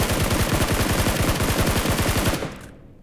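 SCAR-L rifle fire in the BGMI mobile game plays as a rapid, steady burst of close, loud automatic shots for over two seconds, then cuts off into a brief fading tail.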